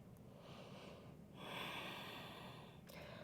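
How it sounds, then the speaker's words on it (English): A deep inhaled breath drawn during a yoga flow, soft and close, swelling steadily in the middle and then easing off, with no talking. "one more deep inhale breath"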